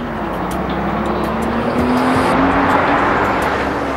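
A car in Gran Turismo 4 brakes hard with a loud, continuous engine and tire roar, a faint squeal rising as it slows.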